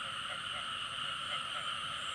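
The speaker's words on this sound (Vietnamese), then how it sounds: "Ếch kêu quá kêu rồi" Frogs croaking in a rural wetland at night, a chorus of repeated calls layered over a steady high-pitched insect-like drone, fairly faint and distant, with no talking.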